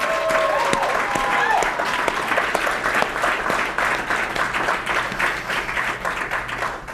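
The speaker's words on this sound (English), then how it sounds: "A big round of applause." Round of applause at a belief-change workshop, many people clapping briskly and loudly for several seconds with some voices mixed in, then gradually thinning out.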